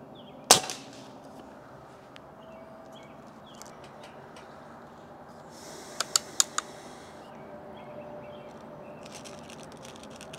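A Crosman Drifter air gun fires at targets: one sharp pop near the start, then a quick cluster of three or four snapping cracks later, each followed by quiet, outdoor background hiss.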